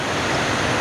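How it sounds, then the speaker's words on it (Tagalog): Loud, steady sea surf rushing with wind on the microphone at a coastal fishing spot, a continuous broadband roar with no talk. "Hindi mo lang humihina yung alon."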